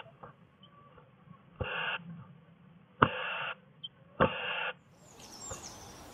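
Inside a bird box, a crow scrapes and bangs as it tries to force its way in, giving three loud scratchy bursts with sharp knocks between them and faint bird calls near the end.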